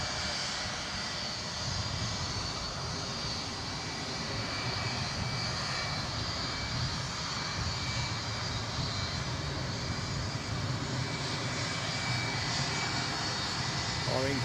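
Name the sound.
incoming Ryanair plane at Edinburgh airport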